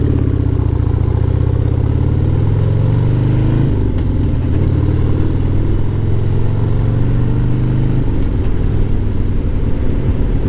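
A motorcycle engine drones loud and close while riding on a cool day, steady low rumble with two shifts in pitch as gears change, wind noise over the top, no talking.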